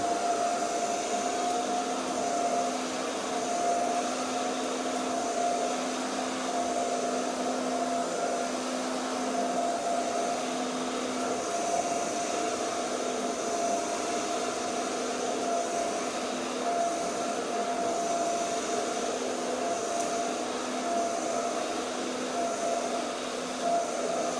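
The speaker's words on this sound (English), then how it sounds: "So just on slow dryer." A hair dryer on its slow setting blows steadily with a constant whirring hum and airy rush, running continuously without pause.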